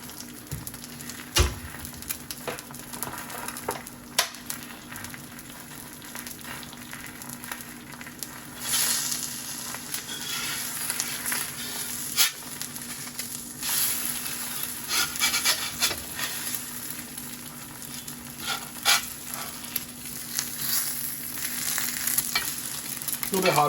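Food sizzles on a very hot Lodge cast iron reversible griddle, a steady frying hiss with scraping and stirring sounds and a few sharp knocks from a utensil.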